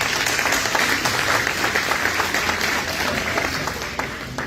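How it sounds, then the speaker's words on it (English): An audience at a community club gathering claps in dense, steady applause that holds for several seconds and tapers slightly at the end. "give them a hand clap"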